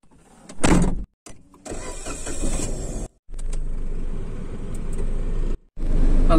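Inside a car while someone gets in, with a thump and rustle, a power window motor whirring, cabin rumble, and brief pauses where the sound cuts out.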